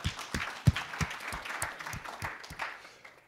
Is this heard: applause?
yes